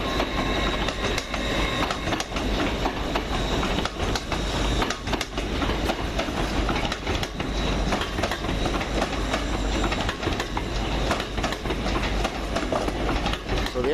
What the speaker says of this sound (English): there's an Azuma coming in